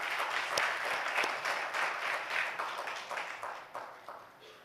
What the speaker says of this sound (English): Can we have a round of applause for the team?